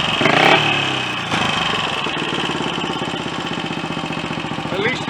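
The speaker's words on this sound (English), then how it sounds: "I've got what is borderline an acceptable tick over on it at last" A Royal Enfield Olympic 250 motorcycle, just rebuilt at the top end, idles at a slightly uneven tick over with a rapid, close mechanical chuffing rhythm, after a brief blip of revs at the start.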